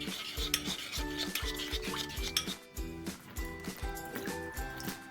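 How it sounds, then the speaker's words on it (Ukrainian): A salad dressing with honey is whisked in a bowl, the utensil clinking and scraping in a quick repeating rhythm, close and moderately loud with no talk. "Ретельно все перемішую і попробую"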